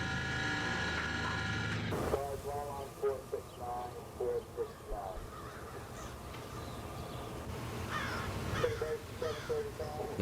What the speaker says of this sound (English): Love me a good crow call.